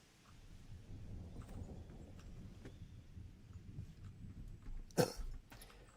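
Thunder from a lightning strike in the Fortnite video game, a low rolling rumble throughout with a sharp, loud crack near the end.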